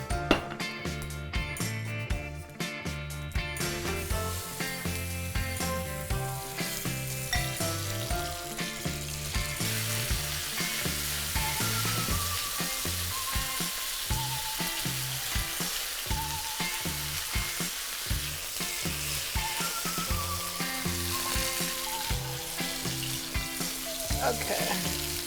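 Chicken stir fry frying in a Breville Hot Wok BEW600XL electric wok, with a steady, loud, close sizzle running throughout and stirring scrapes mixed in, no talking.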